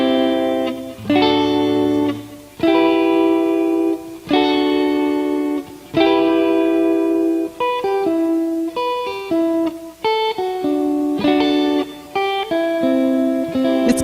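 An electric guitar rings out triads through effects units, chords sustaining with reverb and slight distortion, struck in a slow, deliberate sequence of held notes and shorter steps, with no talking.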